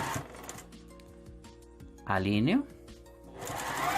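A sewing machine stitches a disappearing nine-patch quilt block with a soft, rapid mechanical whir, and someone speaks over it, her voice briefly rising above the machine.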